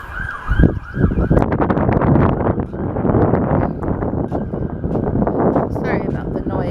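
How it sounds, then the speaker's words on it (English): A loud ambulance siren wails continuously nearby, close to a hospital, its rising and falling tone mixed with traffic rumble and wind noise. "We live near a hospital and the ambulance noise is always pretty loud."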